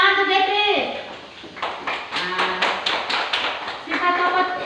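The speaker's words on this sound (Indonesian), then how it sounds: "Tepuk tangan tuh, Getris." A short run of sharp hand claps rings out in a primary school classroom, framed by a teacher's voice before and after the clapping.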